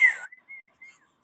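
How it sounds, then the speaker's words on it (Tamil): An audience at a worship gathering whistles in celebration: a brief breathy burst, then a few short, thin whistle tones with gaps between them, faint and with no voices over them. "நல்ல கரங்களை தட்டி விசில் அடிச்சோ"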